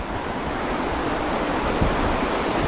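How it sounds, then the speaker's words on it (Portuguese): River rapids at Corredeira da Laje in Serra do Tepequém in the Amazon region rush in a dense, continuous roar of churning water, loud and close with no pauses or voices. "A corredeira da Laje."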